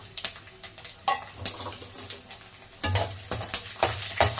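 Vadagam and whole peeled garlic frying in hot oil, with a spoon stirring through the pan in repeated scraping strokes and clinks over a low sizzle, close and fairly loud.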